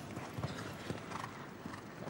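A show-jumping horse's hooves thud on the arena footing during a 1.60 m Grand Prix jump-off at the Grand Palais in Paris, faint and irregular beneath a steady crowd and hall murmur.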